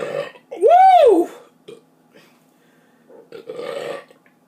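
A loud, drawn-out burp after drinking soda rises and falls in pitch, followed by a short pause and then a voice speaking.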